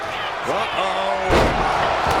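A heavy wrestling slam thuds once, loud and sudden, at a match with the Undertaker and Kane, while someone shouts excitedly just before it and a crowd murmurs in the background.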